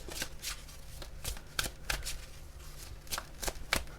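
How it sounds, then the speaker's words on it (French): Oracle cards are shuffled by hand during a card reading, giving repeated soft riffling flicks and slaps at an uneven rhythm, close and fairly quiet. "Alors comme d'habitude, je prends 3 cartes."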